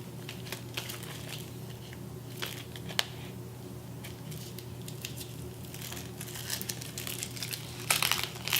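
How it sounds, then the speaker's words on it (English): Adhesive planner stickers pressed down onto a page, with soft crinkling and rubbing as fingers smooth them, a few sharper taps and a brief rustle near the end, close and quiet over a low hum. "I'll get them pressed down and make sure that all the adhesive is adhering."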